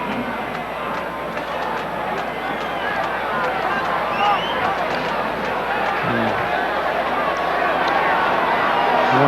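Large stadium crowd at the Citrus Bowl college football game, a dense, continuous roar of many voices and movement, steady and loud throughout with no single voice standing out.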